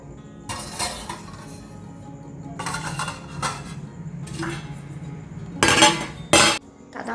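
A metal lid goes onto a cooking pot in a home kitchen, with several clanks and scrapes of metal on metal. The last two contacts are the loudest and nearest. Soft kitchen background sounds fill the gaps, and no one speaks.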